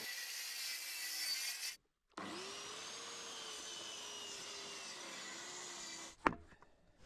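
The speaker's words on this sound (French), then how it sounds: "on sort la scie circulaire pour gagner en facilité de démontage" A circular saw whines steadily as it cuts apart wooden pallets: a brief cut, a short pause, then a longer sustained cut ending in a clatter of falling wood.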